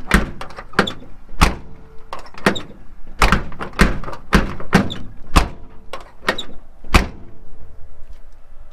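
The doors of a square-body Chevrolet C10 pickup truck are slammed shut again and again, a series of about a dozen sharp, heavy thunks at irregular intervals, close by with little else around them.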